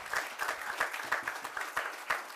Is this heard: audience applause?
yes